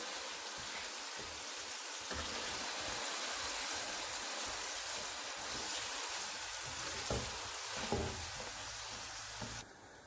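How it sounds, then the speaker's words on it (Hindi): Minced meat frying steadily in a pan for a stuffed bitter gourd dish, a dense continuous sizzle with faint scraping from stirring, close and even throughout with no talk. "अब हम इस कीमे को भी अच्छी तरह से भून लेंगे।"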